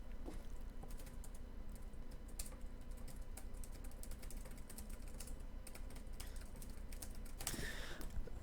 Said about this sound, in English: Sorry about that, typing out to JS here